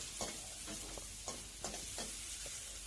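Shrimp stir-fried with garlic and chopped chilli in a pan: a soft, steady sizzle broken by regular scraping spatula strokes about every half second, close and fairly quiet, with no voices.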